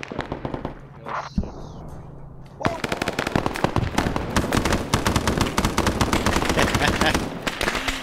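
Sustained M60 machine gun bursts in the Arma SOG video game, Vietnam-era Khe Sanh defense, loud and rapid after a brief quieter lead-in, with dense overlapping gunfire continuing to the end.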